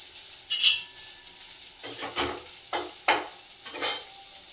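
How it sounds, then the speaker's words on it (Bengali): Chicken pieces stirred in a little oil in a pan, with several distinct scraping strokes and clinks of the spoon in an uneven rhythm over a soft background sizzle, no talking. "এবার একটু তেলে নেড়ে নেব"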